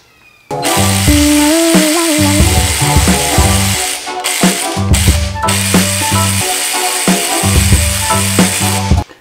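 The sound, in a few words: loosening engine rocker arms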